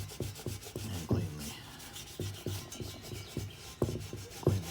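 A towel dampened with brake cleaner rubs along the edge of an intake seal in short, quick scrubbing strokes with small knocks, close and fairly quiet.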